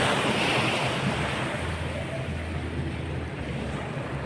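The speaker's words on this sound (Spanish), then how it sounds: "mirad qué hermosura de mar" Sea waves wash steadily onto a beach, a broad continuous surf roar with wind buffeting the microphone and a low rumble underneath, no voices.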